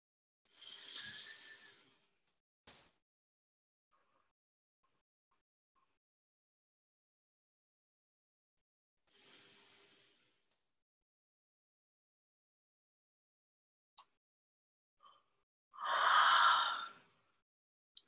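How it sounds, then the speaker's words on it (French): A group breathes together in a guided exercise, with airy breaths spaced apart and long silences between them. The last breath is the loudest and fullest. "Et respirons 3 fois ensemble."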